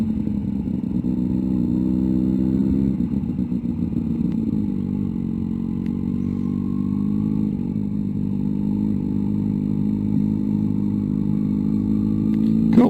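A motorcycle engine idles steadily and close, rumbling continuously as the bike is ridden and reversed into a parking bay, with a brief clatter near the end.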